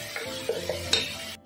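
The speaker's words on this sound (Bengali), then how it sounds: "দিয়ে আরও 2 থেকে 5 মিনিট একটু কষিয়ে নেব।" Ginger garlic paste with green chilli and pepper frying in a pan for a fish curry, close sizzling with a few quick spoon stirs and scrapes, no talking.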